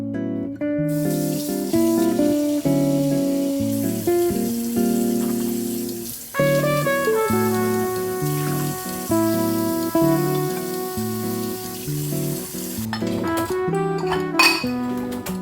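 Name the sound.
washing dishes in the kitchen sink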